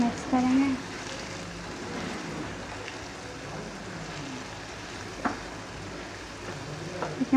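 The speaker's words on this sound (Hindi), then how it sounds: "ये मसाला इसमें 2 चम्मच मैंने बड़े ऐड कर दिए। ये देखिए, अब हम इसको मिक्स करेंगे।" Homemade nihari masala being stirred into simmering nihari, a soft steady sizzle with occasional spoon scrapes and knocks against the pot, a voice speaking faintly over the cooking.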